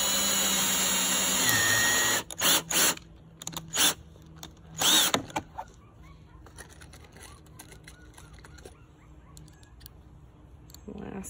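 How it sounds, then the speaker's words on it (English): A power drill drives pocket screws through a Kreg jig into clamped wood: a loud sustained run, then several short close-up bursts of whirring, with a few quiet knocks between. "then you simply drive the screws into place."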